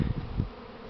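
A swarm of honeybees in spring, a close, low buzzing drone pulsing briefly and alone.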